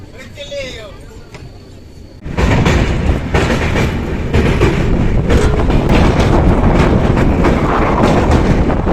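Train running on rails through green countryside in light rain, a loud steady rumble and rattle that starts abruptly a couple of seconds in and continues to the end, with faint wind buffeting.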